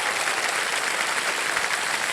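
Studio audience applause on the KBC game show, steady dense clapping at moderate loudness for the whole stretch, with no voices over it.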